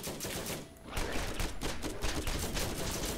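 Rapid gunfire from the shooter video game Borderlands, loud dense bursts of repeated shots running almost continuously after a brief lull, with no voices over them.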